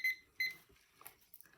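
A one-minute timer alarm goes off with two short, high electronic beeps close together, followed by faint soft rustling.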